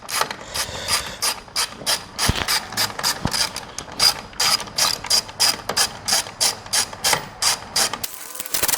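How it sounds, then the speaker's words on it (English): A ratchet wrench unscrews 10 mm bolts on the grille of a Ford F-150, clicking rapidly and evenly in close, loud bursts of repeated pawl ticks with no talk. "we've got a handful of bolts on this up here, here, and then over there. It's a 10 millimeter. So we are just going to unscrew these"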